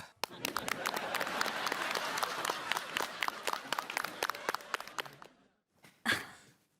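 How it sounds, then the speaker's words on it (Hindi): Group applause from an indoor crowd in a Hindi TV sitcom household scene, a dense burst of many hands clapping that swells, holds steady, then tapers, followed by a brief pause and a short sharp noise at the end. "हम सबको तिवारी जी के लिए तालियां बजानी चाहिए"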